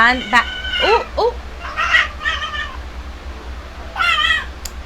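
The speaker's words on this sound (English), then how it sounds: "that is my cat Victoria." A cat meows several times in a row, fairly close, with rising and falling cries spaced across the clip and a low background hum.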